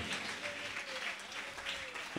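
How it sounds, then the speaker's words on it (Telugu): A church congregation at Sunday worship claps loudly and continuously in a dense, steady wash of applause, with a faint sustained tone running beneath it. "గట్టిగా చప్పట్లు కొట్టి ప్రభుని కనపరచండి"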